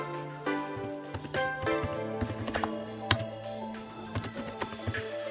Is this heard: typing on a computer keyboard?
yes